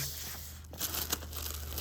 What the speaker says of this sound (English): So before I pull the paper off